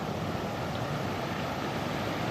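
Water pours over St Pancras Lock on the Regent's Canal like a waterfall, a steady broadband rushing roar that holds without pause throughout.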